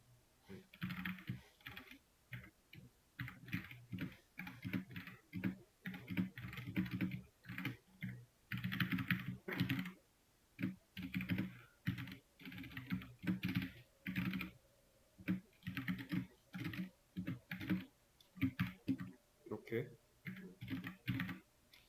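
Keyboard typing while entering print statements for a nested-loop programming exercise, steady bursts of keystrokes throughout, with a person speaking over much of it.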